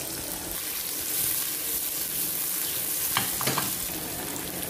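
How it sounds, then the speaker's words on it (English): Onions sizzle in butter in a pan, a steady close hiss of frying with a few clinks of a utensil stirring near the end. "Now we'll saute for butter. Yes. Add some onions"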